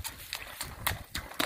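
A strawberry roan racking horse canters up a hill, its hooves striking in clear, evenly spaced clip-clops, about five beats in a second and a half, fairly close and crisp.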